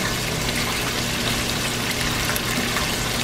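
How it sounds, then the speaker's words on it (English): Water runs steadily into a glass Alfredo sauce jar in a home kitchen, a continuous close splashing fill with no talking. "Put a little water in my jar to get the rest of my stuff that I paid for."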